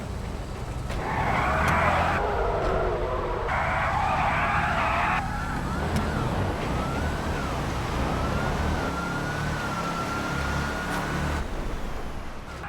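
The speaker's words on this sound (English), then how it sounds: "Retro's in the black Hellcat, Cred's in the red one." Dodge Hellcat cars drag racing at night in a GTA street racing game, engines roaring under a rising siren-like wail and tire noise, a loud continuous stretch with no talking.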